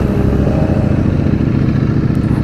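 A Ducati Streetfighter V4S motorcycle rides by close and loud, its engine a dense, steady rumbling roar with a rough low-end throb for the whole stretch.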